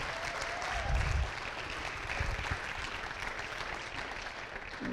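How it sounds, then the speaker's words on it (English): A school celebration audience at Banneker High School gives a round of applause: continuous, fairly soft clapping from a large room, with a few low thumps mixed in. "A round of applause for that."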